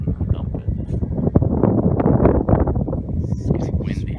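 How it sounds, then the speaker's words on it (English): Gusting wind buffets the microphone outdoors during a model aircraft's first flight, rough low rumbling bursts rising and falling throughout while people talk over it nearby. "It's windy too."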